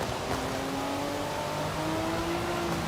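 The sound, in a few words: Lamborghini Revuelto engine revving in Forza Horizon 5 video game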